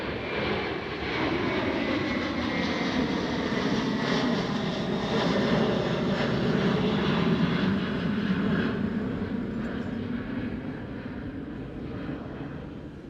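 A KLM Airbus A330-200 at Schiphol gives a sustained jet engine roar, fairly distant, that swells and then slowly fades away. No voices are heard.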